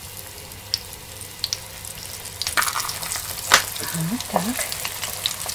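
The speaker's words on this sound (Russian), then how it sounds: "В разогретое масло обжариваем наши плацинды." Plăcintă pastries fry in hot oil with a steady, close sizzle and scattered sharp spatters, rising a little midway; a voice speaks briefly near the end.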